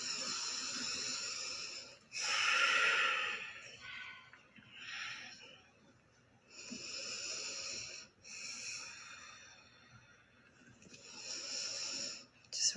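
Deep, slow breath cycles during a chair yoga session, long audible inhales and exhales rising and falling in waves, close to the microphone with soft speech in places.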